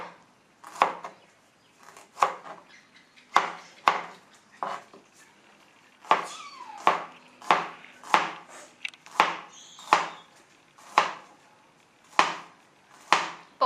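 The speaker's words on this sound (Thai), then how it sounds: "อ่ะนี่เราหั่นทางนี้นะคะ มันจะหั่นง่ายกว่าหั่นทางยาวด้วย" A knife slices through mango on a cutting board in a kitchen, producing a steady series of sharp, close chopping taps with short pauses between strokes, with no voices over them.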